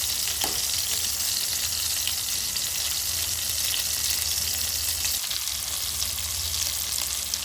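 Marinated fish pieces frying in a pan of oil in a village setting: a constant, dense sizzle and crackle runs throughout, close and steady, with no talking.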